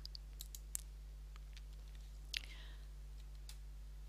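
A few sharp, faint computer mouse clicks are spaced irregularly over a steady low hum, with one brief louder click burst near the middle.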